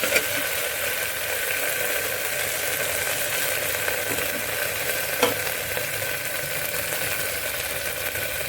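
Onions fried until translucent are stirred with green beans in a pan for a Kashmiri green bean and onion gravy, giving a steady loud sizzle throughout with soft scraping stirs and one sharper clack near the middle.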